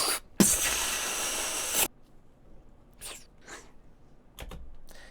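A person's mouth imitates a magic spell effect: one long, loud hissing whoosh, then quieter breathy swishes, with no words spoken.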